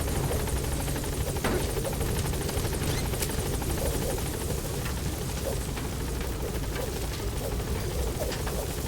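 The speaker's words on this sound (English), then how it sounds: "You should be like the fastest helicopter on the planet." Steady whirring thump of a helicopter rotor in the video game Metal Gear Solid V: The Phantom Pain, constant and fairly loud throughout, with no talking.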